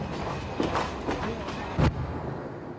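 Continuous rumble and clatter of a train hauled by a locomotive running along rails, with rhythmic knocks and a louder thump, steady and fairly close.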